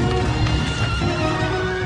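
A galloping horse, its hoofbeats and a whinny forming a dense, loud, continuous rush with no talking.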